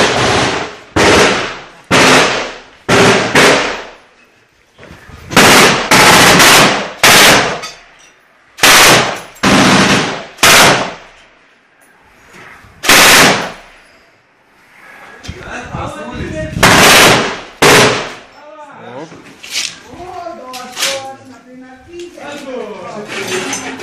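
A commander fires a machine gun from a position, with loud, close bursts of several rounds each repeating through the clip, broken by pauses. Excited voices talk and shout between and over the bursts.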